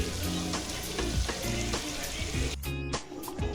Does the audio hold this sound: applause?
no